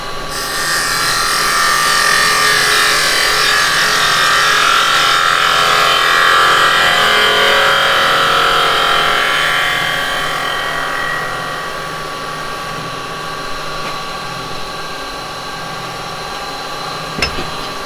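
A carbide tool cuts a flower shape into wood spinning on a lathe, giving a loud, continuous rushing scrape that eases off partway through and then continues more quietly; no one talks.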